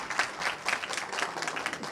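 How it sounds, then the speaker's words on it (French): A crowd at a Guinean political rally applauds for El Hadj Mamadou Sylla, a loud, dense, continuous burst of clapping with slight swells, carrying on without speech. "Applaudissez pour El Hadj Mamad Sylla. Très fort."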